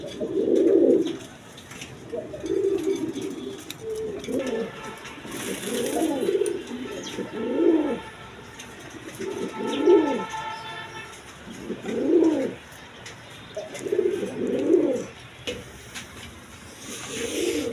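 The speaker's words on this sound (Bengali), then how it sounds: "এখানে এক পেয়ার কালারিং কবুতর আছে, রাজগোল্লা কবুতর" Colouring Rajgolla pigeons coo in a steady series of soft, rhythmic low calls, close by, repeating roughly every two seconds with faint background noise.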